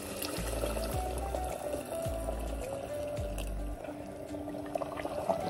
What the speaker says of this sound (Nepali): म चाहिँ अब आवश्यक अनुसार पानी राख्छु है